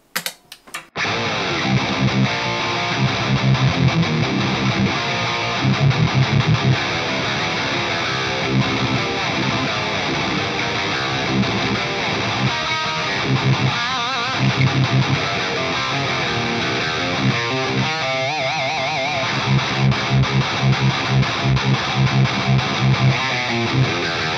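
Heavily distorted, high-gain electric guitar through an Axe-Fx III amp model with bass and mids cranked and a grinder boost adding about 20 dB plays loud, thick chugging riffs with sharp stops and restarts, filling the whole clip without any talking.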